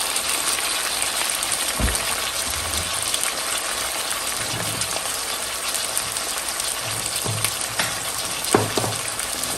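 Meat seasoned with chicken bouillon, salt and ground pepper sears in a hot pan with a steady, loud broadband sizzle throughout, broken by a few low knocks and scrapes of stirring.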